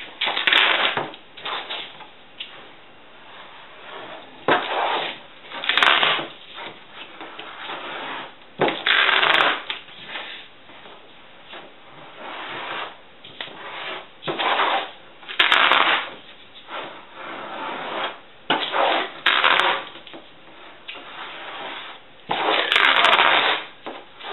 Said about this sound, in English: you want to wrap the entire thing in duct tape